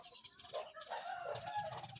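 Chickens on a rural farm cluck and squawk faintly in short, uneven calls over a couple of seconds, heard at a distance with no speech.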